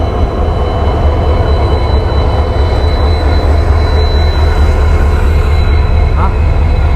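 Jammu Tawi Jodhpur express pulling into Bikaner Junction, a steady loud rumble of rolling coaches with faint wheel squeal near the end, close and continuous without pause.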